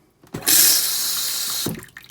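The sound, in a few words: water flowing through RV toilet valve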